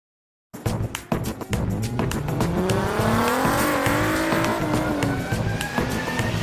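A hot Alfa Romeo 147 GTA drives off loudly and close, its engine revving and climbing steadily in pitch with a rising, sustained roar and some tire noise.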